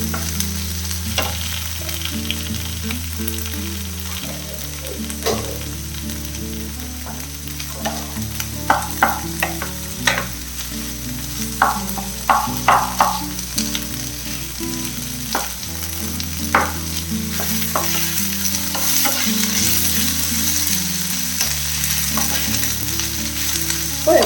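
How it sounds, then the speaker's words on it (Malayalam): Onion, green chili, ginger and garlic sautéing in a hot pan for a squid dish, a continuous sizzle with intermittent spatula scrapes and stirring clatter, heard alone with steady background music. "അപ്പം നമ്മുടെ സവാള നല്ല രീതിയിൽ വഴണ്ടിട്ടുണ്ട്."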